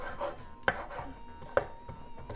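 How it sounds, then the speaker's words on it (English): A knife chops fresh coriander on a cutting board in a home kitchen, two crisp distinct strokes among softer cuts and light rubbing, close and steady with no talking. "I love cutting coriander for some reason."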